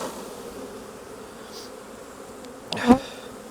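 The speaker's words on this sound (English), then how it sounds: "Throw in as many bees as you can, because the majority are going to fly away." A steady hum of many honeybees buzzing close by, with a louder burst near the end as the bees are shaken from a frame into a hive.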